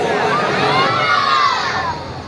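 Large crowd at an Eid Milad un Nabi gathering in Multan Khurd raising resounding slogans together, a loud, dense wall of voices that swells and carries steadily before easing off slightly at the end.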